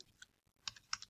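Typing a command on a computer keyboard: a short run of light, crisp key clicks in an irregular rhythm, close and quiet, with no voice.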